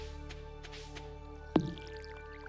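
A single soft liquid splash as water is poured for a cat in Stardew Valley, brief and quiet over steady background game music.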